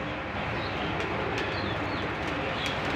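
Pet pigeons coo softly in a loft, low murmuring calls over a steady, fairly loud background hum.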